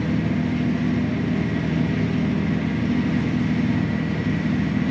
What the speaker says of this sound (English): You can hear the seed coming Yeah. down the spout